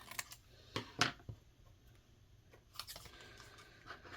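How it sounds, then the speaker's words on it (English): Quiet, close scissor snips cutting through card, a few sharp clicks in an irregular rhythm with pauses between cuts. "I'm going to flip it over and just trim it off with my scissors."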